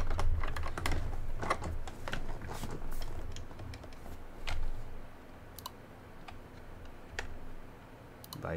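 Rapid clicking of a computer keyboard during a game stream, irregular bursts of sharp keystrokes close to the microphone, loudest early and thinning out toward the end, with no talking.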